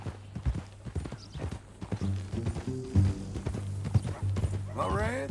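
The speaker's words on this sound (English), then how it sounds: "That a new horse?" Horse hooves clip-clopping in the video game Red Dead Redemption 2, a steady run of distinct hoof thuds under conversation, with a horse neighing near the end.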